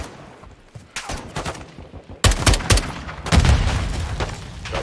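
Gunfire in Call of Duty Modern Warfare 2 comes in rapid bursts, loud and close, with sharp cracks and booming shots that grow heavier in the second half.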